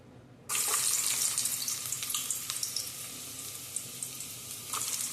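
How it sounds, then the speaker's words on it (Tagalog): Garlic, onion and tomato hit hot oil in a pan, bursting into a loud, bright sizzle that holds steady with crackles and pops; a short quieter stretch comes before it, and no one talks. "isunod po natin yung bawang at isunod pa din sibuyas at kamatis. Kayo po unahin, igisa natin"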